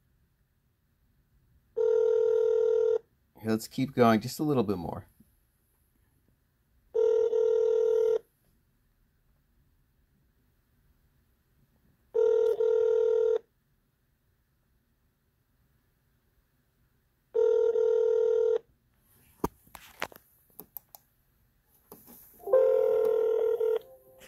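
An old-style telephone rings in repeated long, loud bursts, five rings spaced evenly a few seconds apart in a municipal court setting, with a short stretch of speech between the first and second rings.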